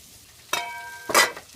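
Brinjal pieces frying in hot oil for a kathirikkai fry, heard as two short, bright bursts of sizzling as the pan is stirred, with near quiet between them.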